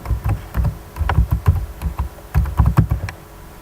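Typing on a computer keyboard: close, crisp key clicks in quick irregular bursts with short pauses, alone.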